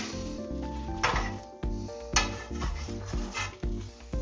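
A steak and cheese quesadilla with jalapenos sizzles on a hot griddle, a steady crackling fry with repeated clanks and scrapes of a spatula against the pan as it is flipped, close and moderately loud.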